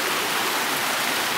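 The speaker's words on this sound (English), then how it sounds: "River running through." Steady broadband rush of a river flowing through open hill country in a sika deer hunting area, even and continuous with no talk over it.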